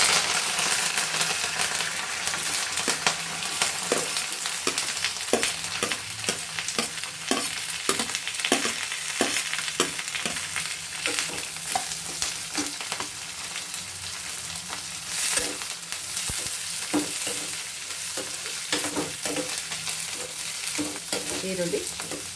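Chopped onion sizzles steadily in hot oil in a pan for a South Indian chitranna gojju, with repeated spoon scrapes and stirring clicks over the frying hiss; nobody speaks.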